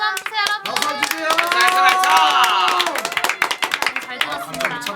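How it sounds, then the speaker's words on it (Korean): Concert crowd claps after a sad song, a dense run of many hands clapping close by, mixed with a sung or spoken voice and scattered children's voices. "박수 한 주세요, 여러분. 박수 주세요."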